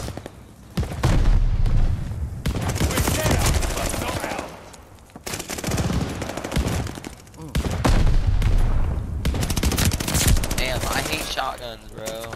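Rapid shotgun blasts and other gunfire in an online shooter video game, dense bursts of loud booming shots in several clusters with short lulls between them, and game sound layered underneath.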